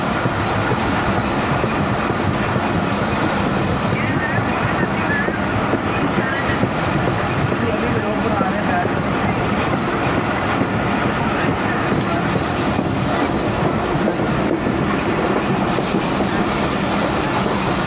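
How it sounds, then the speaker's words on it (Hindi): A train rolls slowly through a station near Sheikhupura, its wheels clacking in a continuous rumble that stays loud and close throughout. "यहाँ से थ्रू ही गुज़रती है ट्रेन। अलबत्ता PLC है इधर भी, मेरा ख़्याल इस वजह से स्लो ही है ट्रेन काफ़ी।"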